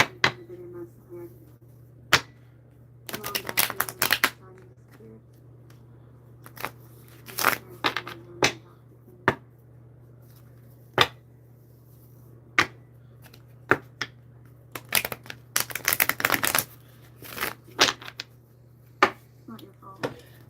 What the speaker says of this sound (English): But I'll shuffle again to see.